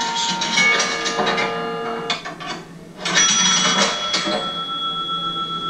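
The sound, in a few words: payphone coin deposit bells and gongs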